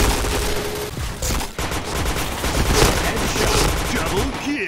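Rapid gunfire in the shooter game Point Blank crackles in dense, overlapping bursts, loud and continuous with a brief lull, while an announcer-style voice speaks over the shots.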